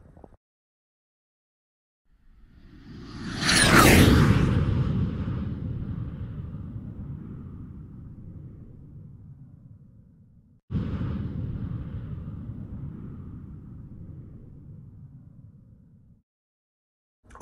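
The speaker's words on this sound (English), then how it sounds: "Okay, so the Tsar Bomba, most powerful weapon ever detonated" Footage of the Tsar Bomba, a Soviet nuclear bomb and the most powerful weapon ever detonated, gives a deep, loud explosive roar that swells, rumbles steadily for several seconds, breaks off and then resumes as a long low rumble.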